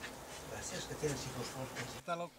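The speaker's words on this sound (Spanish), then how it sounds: "Esta es la avispa asiática." Asian hornets buzz around a beehive entrance: a steady, close insect drone lasting about two seconds, then a brief tonal sound.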